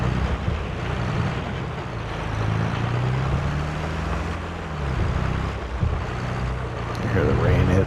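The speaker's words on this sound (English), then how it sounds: "Hear the rain hitting the cab of the tractor here." Rain beats on a tractor cab in Farming Simulator 22 on an Ohio farm, a continuous loud hiss layered over a low, steady engine drone.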